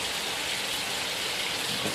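Rain falls steadily behind a house among banana and mango trees, a dense, even hiss that holds at the same level throughout with no voices.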